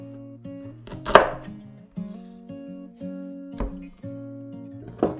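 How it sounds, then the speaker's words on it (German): A knife chops a piece of ginger into thick slices on a board, making a few sharp, separate knocks spaced about a second apart, close up, over a bed of steady background music. "Ingwer in dicke Scheiben schneiden"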